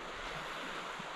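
A fast-flowing flooded river rushing steadily beneath trees, a continuous broadband roar of moving water close by with wind mixed in, no voices.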